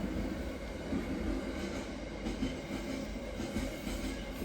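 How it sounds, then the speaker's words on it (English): A train passes nearby with a continuous low, rumbling roar and faint rhythmic rail clatter, steady throughout with no voices. "there's another train"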